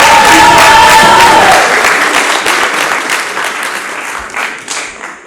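An audience at a young debaters' grand finale applauds to welcome a speaker, loud clapping at first that gradually thins and tapers off.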